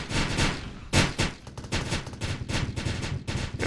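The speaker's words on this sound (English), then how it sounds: "Taking heavy fire." Rapid automatic gunfire rattles in bursts through a video game rescue mission with a helicopter, dense and loud with sharp cracks throughout and no talk.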